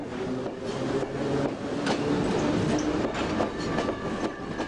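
A Berlin S-Bahn train runs on the rails, a steady loud rumble with rhythmic clickety-clack from the wheels over rail joints, heard close and continuous without speech.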